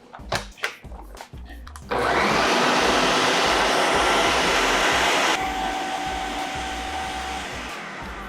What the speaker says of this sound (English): I blended that for 50 seconds